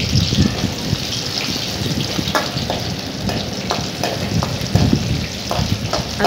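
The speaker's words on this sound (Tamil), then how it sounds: "இஞ்சி பூண்டெல்லாம் வந்து எண்ணெயிலே நல்லா வதங்கிட்டு கொஞ்சம்" Ginger and garlic fry in hot oil for a chicken curry, giving a steady close sizzle with scraping stir strokes throughout and no voices.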